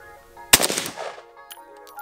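A single sharp gunshot from a Draco pistol fired without a brace, a loud close crack at mid-clip with a short ringing decay, quiet before and faint movement after.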